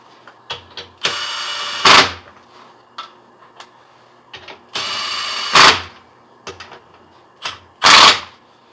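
A Milwaukee impact wrench snugging wheel lug nuts fires three loud, short hammering bursts, each ending in a sharp peak, with small mechanical clicks and handling noises in the gaps.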